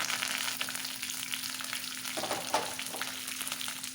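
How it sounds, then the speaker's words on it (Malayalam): Mustard seeds, fenugreek, dried chillies and curry leaves crackle and sizzle in hot oil as a tempering for Kerala bitter gourd curry, a steady close frying hiss with a few sharper pops and no talk. "വറവിനായി കടു, ഉലുവ, ഉണക്കമുളക്, കറിവേപ്പില ഇത്രയും കൂടി ചേർത്ത് വറുത്തിടുന്നു."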